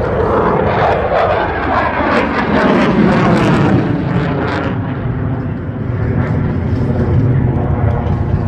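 Twin-turbine jet aircraft at an air show in stormy weather near Valence-Chabeuil, Drôme, producing a loud, continuous broadband roar with shifting tone as it passes, steady throughout without pause.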